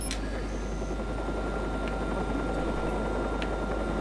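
Helicopter in the video game Watch Dogs, a steady broadband rotor and engine drone that holds loud and continuous throughout, with a few faint high clicks over it and no talk.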